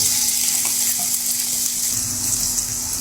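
Steady sizzling of grated garlic frying in hot oil, close and continuous, with a faint low hum underneath.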